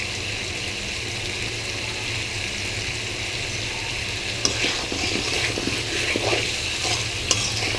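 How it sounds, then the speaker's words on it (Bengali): Spices sautéing in a pan for a Bengali rui fish curry with cucumber, papaya and potato, a steady close frying hiss with occasional stirring scrapes and clinks, no talking. "একটু কষিয়ে নিলাম মশলা।"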